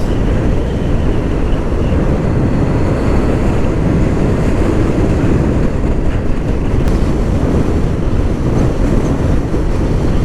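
Steady wind roar rushing past a Kawasaki Ninja H2 SX SE sport tourer ridden at high speed, a continuous loud broadband buffeting with no breaks and no talking.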